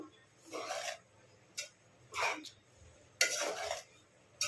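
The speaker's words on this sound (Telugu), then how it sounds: "మొత్తం అంతా బాగా కలగలుపుకోండి." Puffed rice ugganii being tossed and mixed with chilli bajji in a bowl, giving soft rasping, rubbing bursts in four uneven strokes with quiet gaps between.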